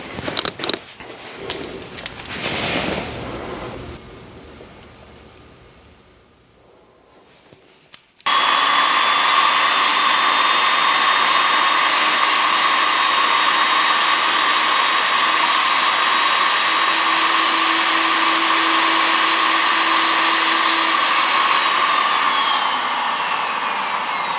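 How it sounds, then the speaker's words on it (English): A Dremel rotary tool polishing an Australian black opal with polishing powder: after quieter scraping and a pause, the motor kicks in with a loud, steady high-pitched whine that runs continuously, its pitch shifting slightly under load. "I'm using the Dremel because I need to target a certain area in order to fix the problem."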